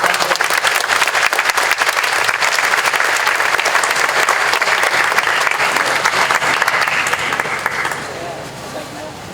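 A festival audience gives Governor Tony Evers a loud, dense round of applause at the 2025 Wausau Hmong Festival, sustained for several seconds before it thins and fades. Cheers mix into the clapping.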